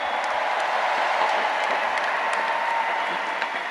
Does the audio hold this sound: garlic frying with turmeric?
no